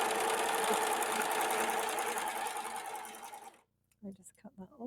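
Husqvarna Viking S100 sewing machine stitching with a piping foot, a fast, steady mechanical whir that runs loud and close for several seconds, then stops, followed by a few soft handling sounds.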